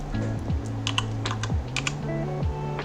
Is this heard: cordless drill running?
no